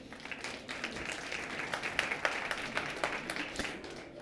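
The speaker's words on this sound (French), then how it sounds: "On peut les applaudir." Applause from an awards-ceremony audience at a Montreal tech awards event, a steady wash of clapping lasting throughout at moderate loudness, with a few sharper individual claps standing out.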